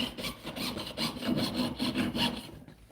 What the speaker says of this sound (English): So I will finish sawing this out.